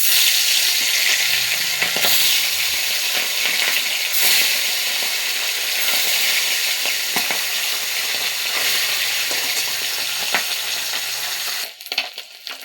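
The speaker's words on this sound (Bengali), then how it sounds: "আগে আমি পুঁটি মাছগুলো ভেজে নিব" Small puti fish sizzle and crackle in hot oil in a home kitchen, a steady loud frying hiss with occasional stirring clatters, no one speaking.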